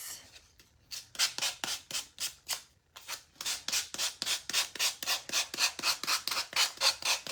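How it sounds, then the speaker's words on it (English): Hand sanding tool rubbing around the edges of a wooden craft kit, producing steady, rhythmic rasping strokes up close, roughly two per second after a short pause, with no talking. "All right, we're just gonna take the sanding tool,"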